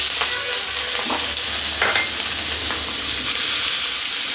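Capsicum and green chilli fry in hot oil with turmeric, giving a continuous close sizzle while a spatula stirs them in a few soft scraping sweeps and the pan hums underneath, no voices.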